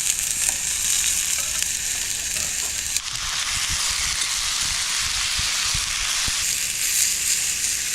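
Fresh store-bought prawns hit a hot pan and sizzle steadily, a continuous bright frying hiss that swells into louder crackling for a few seconds after they drop in.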